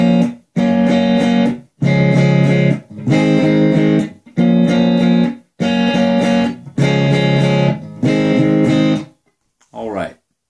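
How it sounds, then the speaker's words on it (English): Heavily distorted electric guitar chords from a song, strummed in eight sustained blocks with short gaps between them, loud and close, followed by a brief fading note. "I used pretty heavy distortion."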